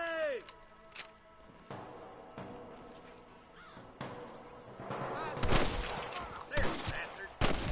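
A western shootout in Red Dead Redemption: scattered gunshots crack one after another, growing louder and more frequent toward the end, mixed with shouting voices.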